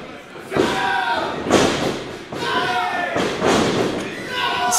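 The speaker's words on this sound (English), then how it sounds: "Slamming Ninja Mack on the ground." Heavy thuds of wrestlers slammed onto the mat during a triple threat match, several loud impacts spaced about a second apart, under excited commentary and crowd noise.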